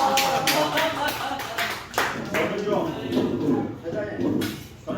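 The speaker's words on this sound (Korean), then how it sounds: "박수." A small group claps at a historical shrine gathering in Boryeong, a few scattered sharp claps mixed with speaking voices, fairly close and uneven rather than a sustained ovation.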